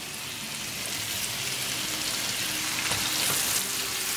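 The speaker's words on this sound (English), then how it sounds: "we're going to cook cumin seed for like 20 to 30 seconds" Cumin seeds sizzle in a frying pan with a steady, loud crackling hiss that lasts the whole time. No voices are heard over the frying.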